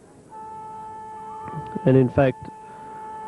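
A siren ends the third quarter of a 1984 Australian rules football grand final between Yolla and South Burnie: a faint, steady sustained tone runs under a commentator's voice.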